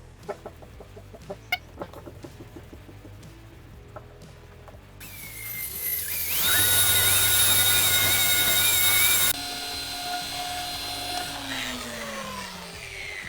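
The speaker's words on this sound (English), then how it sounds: "we're gonna use the rotary polisher with a super heavy compound" Quiet clucking and small noises give way to a loud, steady whining rotary polisher motor with a high-pitched tone, used with a heavy compound, which drops in pitch and continues more softly.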